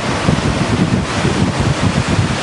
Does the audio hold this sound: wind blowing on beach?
yes